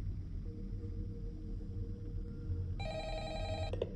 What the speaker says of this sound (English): Answer it. Answer the phone.